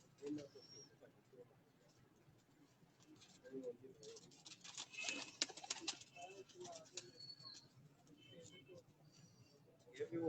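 Red-breed pigeons on a rooftop loft give soft, low coos and wing patter amid faint outdoor ambience, with scattered chirps and light rustling building in the middle.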